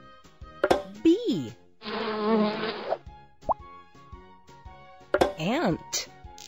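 A cartoon bee in an animal jigsaw puzzle video game gives a short buzzing drone of about a second, set between brief musical game effects and chimes.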